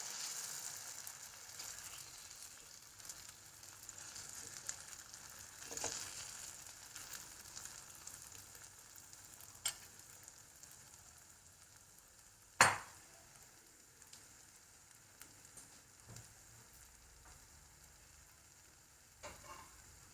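Dosa batter frying on a hot oiled pan gives a faint, steady sizzle throughout, broken by a few sharp clicks and one louder clack of a utensil, with no talk.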